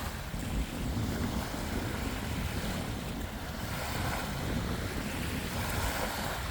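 Waves wash against a shallow shoreline on Mille Lacs Lake, Minnesota, a steady broadband rush of water mixed with heavy wind buffeting the microphone, continuous and close.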